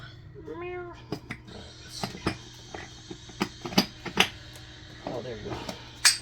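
A cat lets out a clear meow near the start, followed by scattered clicks, knocks and clattering nearby.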